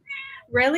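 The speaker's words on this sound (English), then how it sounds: "I'm sorry, my cat is in active labor." A cat in active labor lets out a short, strained meow, quickly overlapped by a person's brief spoken word, close and fairly loud.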